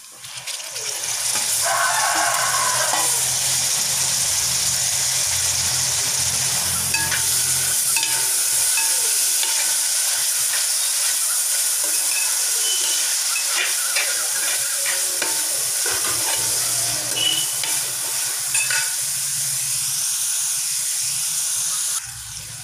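Finely chopped tomatoes frying with beef masala in a pan, a loud continuous hiss and sizzle with steady stirring scrapes running throughout, close by.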